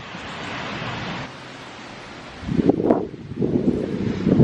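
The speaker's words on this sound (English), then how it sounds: "Oh, that's a big gust." Strong wind during Hurricane Ida roars steadily at first, then a louder, rougher gust surges in around the middle and keeps buffeting the microphone with heavy rumbling turbulence.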